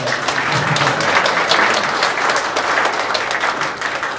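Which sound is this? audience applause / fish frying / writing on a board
audience applause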